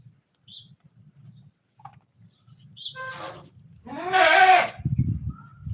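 A goat bleats loudly and close by, with a strong wavering cry near the end, after a few faint chirps and soft low rustling noises.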